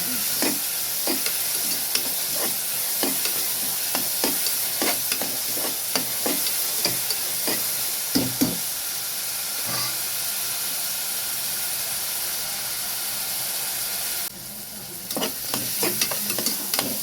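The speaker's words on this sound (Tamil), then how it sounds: "வெங்காயம் வதங்குது." Onions sautéing with a spoon of coarse salt in a pan for a Muslim-style mutton and drumstick salan, giving a steady, close oily sizzle with repeated scraping stir strokes throughout and a brief dip near the end.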